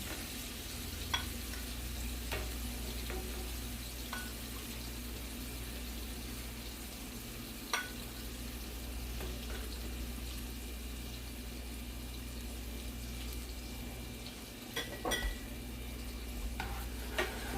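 A sauce simmers and reduces in a pan beside seared scallops, giving a continuous low bubbling and soft sizzle. A few light clicks and scrapes of a utensil sound over it, and no voices are heard.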